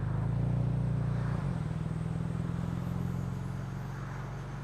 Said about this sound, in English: This car's a 4-cylinder. It's not a Yaris GR. It's supposed to run on 4. But for some reason, it starts misfiring